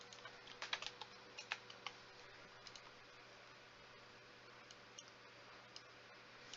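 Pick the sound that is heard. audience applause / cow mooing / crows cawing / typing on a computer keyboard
typing on a computer keyboard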